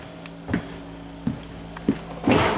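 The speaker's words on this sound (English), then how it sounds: "I'm going to put 2 manuals in your drawer." Several short wooden knocks and slides from a drawer being opened and shut in the kitchen of a 2023 Sprinter 31MB camper van, spaced irregularly and close by, with a brighter rustle at the end.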